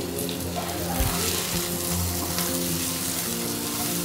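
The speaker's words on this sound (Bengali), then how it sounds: "দু মিনিট নেড়ে নিয়েছি" Food for sago khichuri is stirred in a hot pan, a continuous close sizzle with light scraping and a couple of soft knocks.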